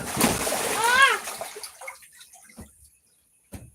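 Water splashing as an adult plays in the water with a young relative: a loud, close burst of splashing with a high squeal-like tone around the first second, then fading drips and small splatters, and one more brief splash near the end.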